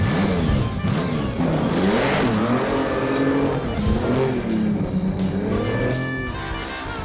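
A sand rail and an ATV race across the desert, engines roaring loud and close with revs rising and falling, a sustained throaty drone that surges and dips throughout.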